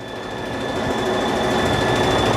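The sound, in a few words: sewing machine running without stitching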